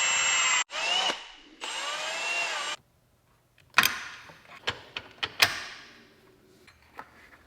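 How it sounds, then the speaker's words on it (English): Power drill boring out aluminum parts for a transmission fit on an AWD Civic Type R build, two sustained whining bursts in the first few seconds, followed by scattered knocks and clanks in a quiet shop. "So if we need to drill them out just a tiny bit to fit on the trans"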